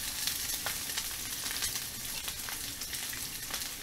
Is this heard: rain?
no